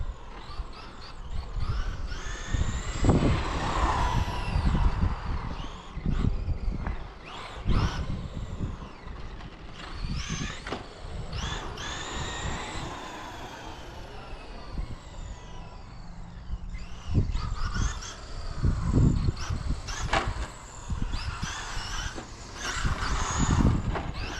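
Traxxas Ford Raptor RC truck, a two-wheel-drive Slash type with an XL5 12-turn brushed motor, driven gently, with whining motor surges, tyre squeals and scuffs rising and falling throughout, fairly close and with no talk.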